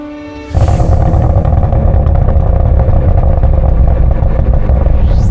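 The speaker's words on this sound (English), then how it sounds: "fix the biggest flaw with the CT4-V Blackwing, the exhaust sound" A Cadillac CT4-V Blackwing sports sedan fires up after a short pause and settles into a loud, deep, rumbling exhaust drone that holds steady throughout.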